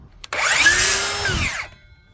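A power drill with a half-inch bit bores into wood for a homestead gate latch, one continuous burst of whining motor that rises, holds steady and winds down, close and loud against a quiet background.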